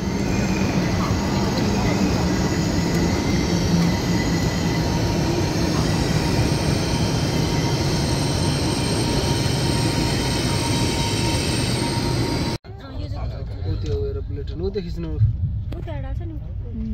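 A train rumbles at a metro station in China, with a loud, steady rolling roar and faint wheel squeal for about twelve seconds before it cuts off abruptly. A voice then speaks over quieter station ambience.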